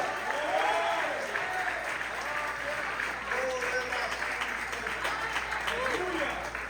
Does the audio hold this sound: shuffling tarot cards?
no